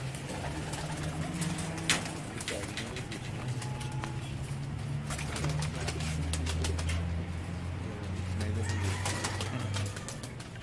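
Pigeons coo in low, repeated soft calls nearby, overlapping throughout, with faint flutters and clicks in the background.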